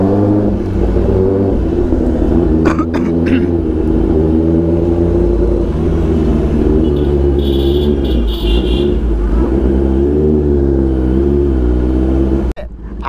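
A Kawasaki ZX10R superbike fitted with an aftermarket exhaust revs loud and close, its deep throaty rumble rising and falling steadily for several seconds before cutting off abruptly near the end.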